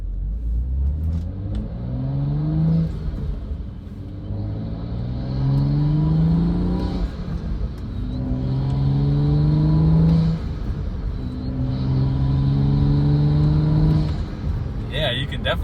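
A BMW F30 with the N55 engine and a Burger Motorsports performance intake revs, heard from inside the cabin with the windows closed. Four rising pulls climb and drop in a rhythmic pattern, with occasional talk over the rumble.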